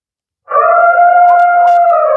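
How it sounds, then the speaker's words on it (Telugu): A crop-protection device plays back a recorded elephant call at night to scare wild boar off farm fields; a loud, sustained, harmonic trumpeting tone starts abruptly and holds steady with slight wavering, close to the recorder. "ఇది వచ్చేసి ఏనుగు వాయిస్,"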